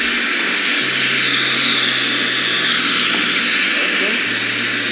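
Noisy FM radio hiss from an Oppo Reno wireless mini home theater, a loud, steady broadband static filling the space with a faint low tone underneath.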